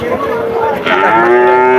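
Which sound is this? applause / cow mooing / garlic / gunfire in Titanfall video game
cow mooing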